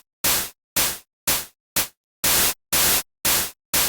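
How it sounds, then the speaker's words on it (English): White noise in Ableton shaped with fades into clap-like bursts: eight sharp, hissy hits with short silent gaps, a couple of them clipped shorter, all alone and fairly loud. "just taking white noise and then molding it with fade in and out to how you want that clap to sound"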